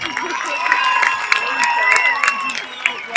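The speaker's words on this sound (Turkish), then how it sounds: "Ama çok alkış istiyor, benden daha kaprisli." Audience at a Sefa Doğanay concert in Çerkezköy clapping and cheering, a dense steady patter of applause with shouts and whistles rising through it.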